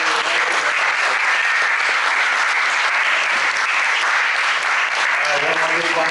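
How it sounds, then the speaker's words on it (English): Loud, sustained audience applause fills a fundraiser hall after a political candidate's speech, with dense continuous clapping and crowd noise throughout. "One more big round of applause for Andrew"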